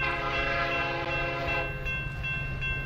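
A train horn blares as a loud sustained chord, then cuts off, leaving the steady rumble of the train under it.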